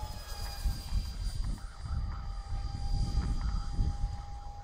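A BlitzRCWorks SR-71 Blackbird V2 RC EDF jet running on three lipo batteries flies at a distance. Its ducted fan makes a steady high whine over a fluctuating rumble that rises and fades as it passes.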